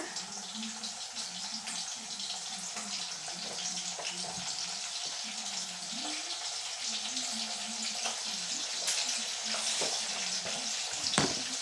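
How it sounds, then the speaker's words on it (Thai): Food frying in hot oil, a continuous bright sizzle and crackle held at moderate level for the whole stretch, with a faint voice and occasional clinks in the background. "ทอดให้หมดเลย"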